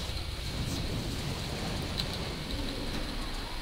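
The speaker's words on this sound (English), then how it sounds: "get my Rain of Fire out there" World of Warcraft Destruction Warlock's Rain of Fire spell crackles and hisses like a downpour, with a continuous low rumble and scattered sharp bright impacts repeating across the span.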